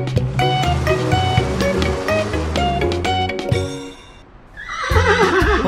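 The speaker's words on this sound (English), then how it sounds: "A horse is running away from the train station." A horse whinnies loudly over lively music, then the music drops away before water-like whooshing swells up at the end.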